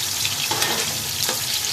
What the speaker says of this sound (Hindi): प्याज को हम हिलाएंगे आहिस्ता आहिस्ता